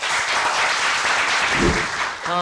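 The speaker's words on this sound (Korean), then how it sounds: "모두 큰 박수 한번 부탁드립니다." Audience applause fills the room at a Justice Party launch and hearing event on subcontracting abuse by large corporations, steady and dense throughout before tapering slightly near the end.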